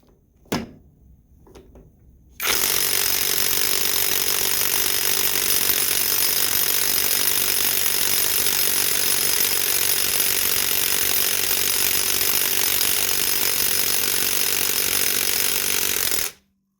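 Top Shak brushless impact wrench spinning in reverse, a loud, steady high-pitched whine with a buzzing motor edge that holds for about fourteen seconds, preceded by a couple of faint clicks.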